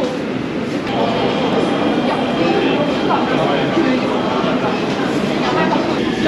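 A Daegu subway train runs with a steady low rumble and hiss of the carriage in motion, close and continuous, with people talking over it throughout.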